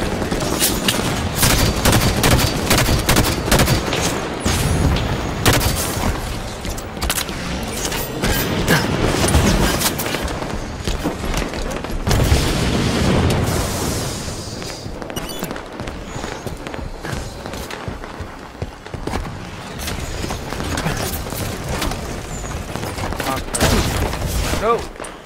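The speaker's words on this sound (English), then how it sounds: "I hate how long it takes for grenades to blow up in this game." Gunfire and grenade blasts from a Halo 5 Guardians match, loud and continuous for the whole stretch with dense bursts, and a player's voice talking over the action.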